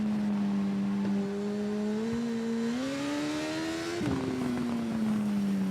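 A superbike in the TT Isle of Man racing game brakes hard: a loud, steady engine drone climbs slightly in pitch, then shifts abruptly and winds down as the bike slows, with no talk.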